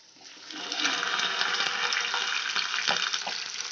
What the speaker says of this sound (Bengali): ফোড়নটা আমার ভাজা হয়ে গেছে এবার আমি কেটে রাখা ঢ্যাঁড়সটা দিয়ে দেব